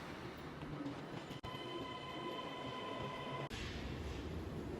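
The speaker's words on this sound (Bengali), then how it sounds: "এখন যেটা দেখতে পাচ্ছেন এটা হচ্ছে এয়ারপোর্টের আন্ডারগ্রাউন্ড যেখানে আমি ট্রেন থেকে নামলাম" A train rumbles and hisses steadily at an underground station beneath Narita Airport in Japan. The roar is loud and continuous, with a faint whining tone and two brief sharp breaks in the sound.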